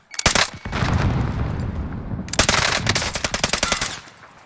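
Loud video game gunfire in a Warzone match, with rapid automatic bursts and single shots cracking close, a dense rattling stretch in the middle, then another burst of repeated shots.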